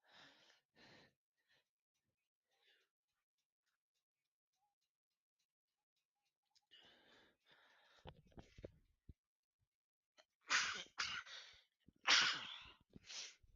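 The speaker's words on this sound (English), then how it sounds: "My bad. I had to sneeze." A single sharp sneeze bursts out in a quiet room among friends, followed by a few bright, noisy breaths and rustles, close to the listener.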